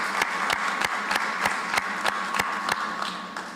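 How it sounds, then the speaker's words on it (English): Crowd applause for Ameren at a St. Louis-area community event, a steady wash of hands with sharp individual claps standing out at a fairly even beat throughout, heard with no voices over it. "Please give Ameren a thunderous round of applause"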